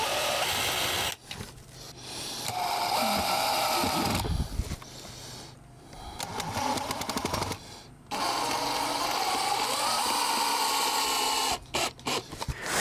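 A power drill whirs in repeated bursts driving screws into deck boards, pausing between screws, with grinding as each one bites into the wood; close and fairly loud.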